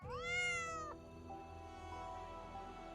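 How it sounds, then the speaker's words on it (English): A black cat meows once, a loud rising-then-falling cry lasting about a second, followed by quieter tonal background sound. "Ah, the black cat."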